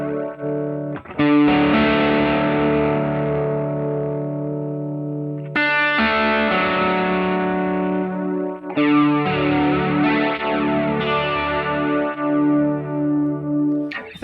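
Guitar through a Line 6 Helix with a fully wet vibrato effect rings out in long sustained chords, its pitch wavering and shimmering throughout, with a few fresh strums spaced seconds apart and no talking.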